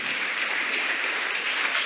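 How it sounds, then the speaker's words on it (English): A crowd of schoolchildren claps at a speech event, a dense steady burst of applause that runs unbroken throughout, with no voices over it. "Can you clap for yourself?"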